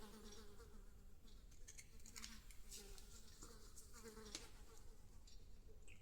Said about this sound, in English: I've got a nasty fly buzzing around.